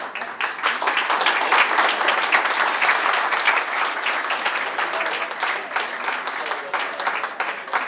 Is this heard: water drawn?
no